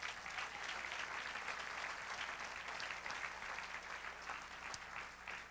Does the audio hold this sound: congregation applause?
yes